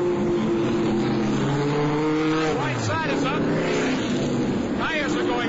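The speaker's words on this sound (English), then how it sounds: "A number of cars are coming in now for pit stops." NASCAR stock cars roar loudly into the pits during the 1981 Southern 500, with engine tones falling as they slow and rising as others pass, under an announcer's steady commentary.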